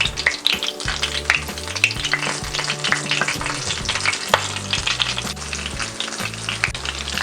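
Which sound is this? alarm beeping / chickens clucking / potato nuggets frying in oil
potato nuggets frying in oil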